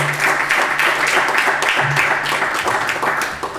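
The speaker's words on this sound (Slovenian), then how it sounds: "En uvodni aplavz prosim za vse goste." Audience applause for the guests at a Slovenian panel discussion on family finances, a dense, loud and steady patter of many hands clapping together with no speech over it.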